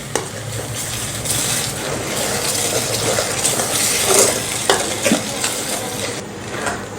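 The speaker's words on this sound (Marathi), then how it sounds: "आता हे वाटण आपल्याला एक दोन ते तीन मिनटे छान या फोडणीमध्ये परतून घ्यायचं आहे" Ground masala paste sautéing in hot tempering oil in a pot, a continuous sizzle and bubbling with scattered scraping and clinking of a stirring spoon.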